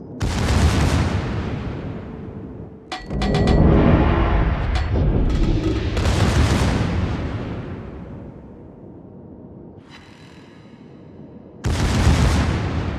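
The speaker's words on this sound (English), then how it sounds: "Provide anti-aircraft fire support." Anti-aircraft guns fire in a naval battle video game featuring the battleship Alabama, with loud bursts of booming and crackling fire that come in several waves and drop to quieter gaps between them.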